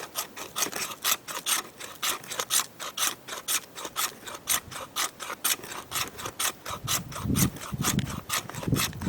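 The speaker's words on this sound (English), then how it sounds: "Use that 90 spine." Rapid, regular strokes of a knife's 90-degree spine scrape bark off a dry wooden stick, about three per second, close up and steady with a bit of wind rumble near the end.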